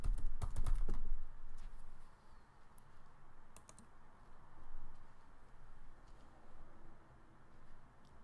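Keys tapped on a computer keyboard in a few short clusters of clicks, loudest near the start and then sparse and faint over steady room noise, with no talking.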